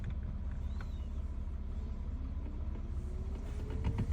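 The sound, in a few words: AC blower motor spinning, Toyota Sienna 2016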